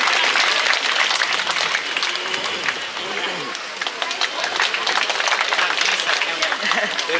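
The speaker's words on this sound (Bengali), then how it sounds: "সবাইকে জোরে করতালি" Loud, sustained applause from an audience at a school farewell ceremony for SSC examinees, dense clapping holding steady throughout with crowd noise underneath.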